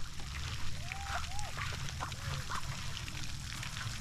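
Muscovy ducks at a hatching, a few short quacks and soft calls scattered over a couple of seconds against steady outdoor background noise.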